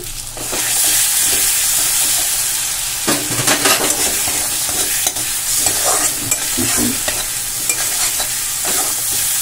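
Chopped tomatoes and ginger-garlic paste are stirred in a hot pan, giving loud, close scraping strokes over a continuous sizzle, with bursts of stirring clustered in the middle and no voices.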